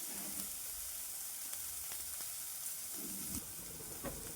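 Onion frying in a pan for a makhana dish makes a soft, continuous sizzle with a few faint stirring taps, and no one speaks.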